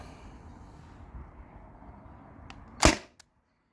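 A single sharp crack from a modified T4E TR68 marker firing a 9.88-gram PVC-coated steel ball, loud and close, followed by a quick short tail and a faint tick, over a quiet background hum.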